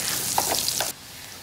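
Garlic hitting hot fat in a pot of garlic butter chicken thighs at a camp cookout, a loud, close, crackling sizzle with stirring that cuts off abruptly after about a second.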